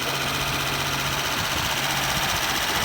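Rebuilt 1993 Mitsubishi 3000GT SL engine idling loudly up close, a steady rumbling drone with a faint hum, no talk.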